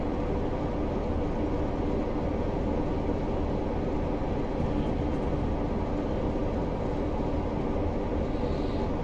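A Class 47/7 diesel locomotive running from Taunton to Plymouth in Train Simulator Classic, a steady loud engine drone with continuous rumble, unbroken throughout and fairly close.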